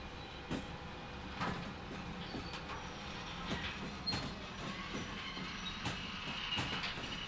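Locomotive shunting heavy railcars in the Derail Valley video game, a faint low rumble broken by scattered clanks and couplings knocking at irregular intervals, with no talk.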